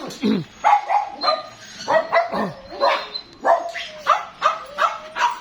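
Several German Shepherd dogs at a dog farm barking repeatedly in short, overlapping bursts, fairly close, with a few higher yips mixed in and no pause between barks.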